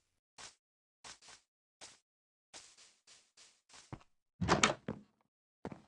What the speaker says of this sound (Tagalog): Sarado na rin tong pinto.